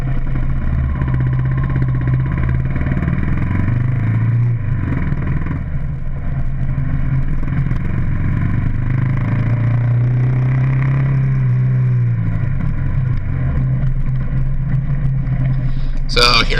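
Kawasaki KLR dual-sport motorcycle ridden through an off-road area, engine running steadily close by with a couple of rising and falling revs, no one talking.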